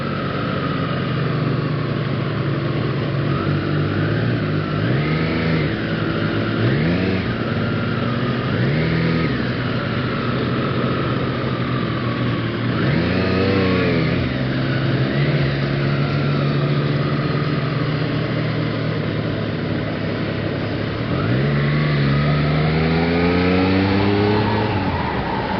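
A Triumph Street Triple 765 motorcycle engine pulls hard through several rising rev sweeps. Each climbs in pitch and then drops back over steady wind and road roar, with the strongest surges in the middle and near the end.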